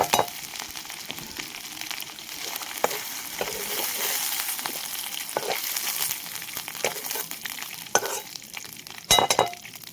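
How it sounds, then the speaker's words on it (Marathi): Bombay duck (bombil) fish fry in a kadhai with a bright, steady sizzle, broken by stirring scrapes and a few sharp utensil clinks near the end. "छान असे तळून घेतलेले बोंबील आता कढई उतरून ठेवते"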